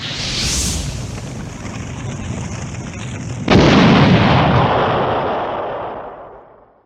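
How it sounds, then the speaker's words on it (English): A fire breath attack in a Game Boy video game gives a steady roaring whoosh, then a louder, harsher burst halfway through that slowly fades away. "her fire breath is a little weak today"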